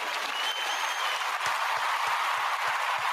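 Applause for the guest of honor on a talk program, a dense continuous patter of clapping from an audience at steady moderate volume, with a few heavier thumps near the end.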